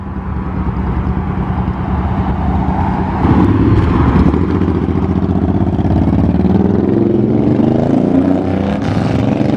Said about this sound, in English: Got some Harley Davidsons leaving.